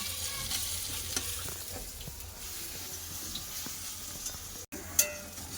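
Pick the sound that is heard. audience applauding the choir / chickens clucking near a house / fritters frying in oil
fritters frying in oil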